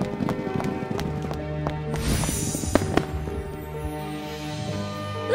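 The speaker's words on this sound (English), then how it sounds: "Prince Liam organized a horse racing competition, and Aurora was extremely fascinated" Horses galloping in an animated horse race, a quick rhythm of hoofbeats with a rising whoosh and a few sharp cracks partway through, fairly loud and close with no speech.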